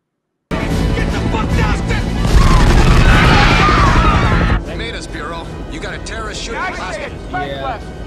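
Loud movie-scene gunfire from Die Hard, a dense burst of bangs and crashes in a rising roar that cuts off after about four seconds. A mix of voices, effects and busy sound follows.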